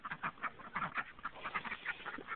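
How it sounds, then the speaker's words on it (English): A small flock of Khaki Campbell ducks with one buff duck quacks steadily in quick, overlapping calls, moderately close and with no talking. "Them are all khaki camel, except that yellow one. That's a buff duck."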